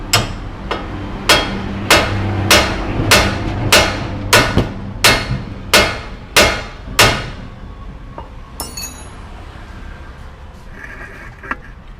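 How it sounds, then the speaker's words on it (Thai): A hammer repeatedly strikes a car's upper control arm ball joint to knock it loose, about a dozen sharp metallic blows at a steady rhythm, loud and close, then a few lighter taps. "แล้วก็ใช้ค้อนตีเข้าไป"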